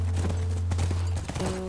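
Horse hooves clip-clop in a rapid rhythm in The Last of Us, set against a steady low hum, with no one talking.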